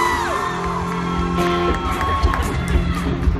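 A convention crowd at NashCon 2016 cheers, whoops and screams continuously, loud and near, with rising shrieks and overlapping voices swelling toward the end.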